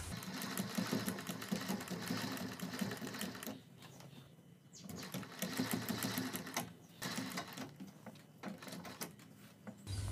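A sewing machine stitches a patti onto a kurti neck, running in steady rapid bursts with short pauses between seams, close and alone.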